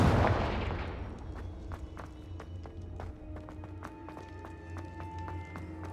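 A Confringo fire spell blast in the video game Hogwarts Legacy, a loud burst at the start that fades out, followed by light tapping footsteps and ringing chime tones.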